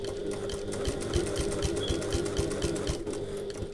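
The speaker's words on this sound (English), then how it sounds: "So I'm sewing this at 1/8 of an inch away from the edge, or 3 mil." Sewing machine with a walking foot stitching a handbag, a rapid steady run of mechanical needle thumps with a humming motor, close and fairly quiet, without talk.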